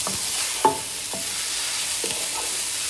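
Onions sautéing in a pan over high heat, a steady close frying hiss with a few soft scrapes and taps of a utensil stirring, no voices.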